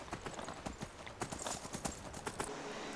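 Horse hooves gallop in the Skyrim video game, a fast steady clip-clop rhythm of hoofbeats, loud and close, running continuously without talk.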